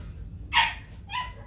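A white fluffy Bac Ha dog, a Vietnamese breed, gives two short barks close by, the first louder and the second a softer yip, over faint background noise.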